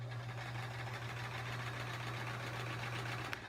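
A sewing machine stitching steadily during free motion quilting on a sampler quilt, a continuous close mechanical hum with rapid fine needle chatter, unbroken and even throughout.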